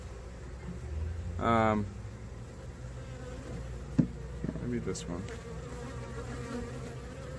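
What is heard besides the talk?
honey bees buzzing at hive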